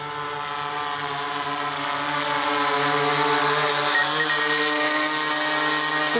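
A DJI Inspire 2 drone flying toward people, its rotors giving a loud, steady, tonal whine that swells slightly as it nears, heard alone without talk.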